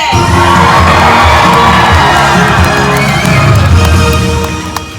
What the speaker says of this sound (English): This half of the audience is going to be cheering on Billy